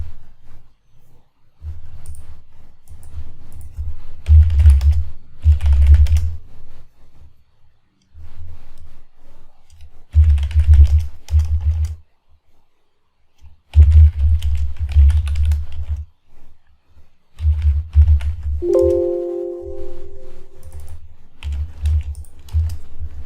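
Bursts of rapid keystrokes on a computer keyboard while entering a database command in Oracle, clattering in several short runs separated by pauses, close and fairly loud with no talking.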